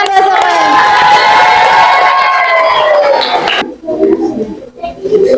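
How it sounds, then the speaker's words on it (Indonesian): A classroom of pupils cheering loudly, a dense crowd of shouting children's voices that sustains for several seconds, then cuts off abruptly into scattered chatter and movement. "Tepuk tangan ya semuanya"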